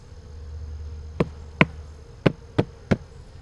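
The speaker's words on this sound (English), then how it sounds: "Get the rest of these bees off." Honeybees at a hive during late-evening feeding buzz faintly under a low background hum, broken by five sharp knocks or taps spaced irregularly in the second half.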